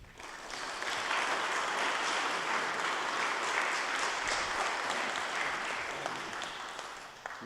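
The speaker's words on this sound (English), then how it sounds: "I don't know that the clap is needed or deserved" Audience applause at a Churchill Fellows event, warm steady clapping from a seated crowd that swells in, holds evenly and then eases off.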